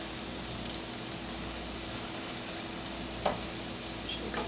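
Zucchini fritters frying in a pan, a soft continuous sizzle with a low steady hum beneath and a couple of faint clicks or taps, quiet and unbroken by talk.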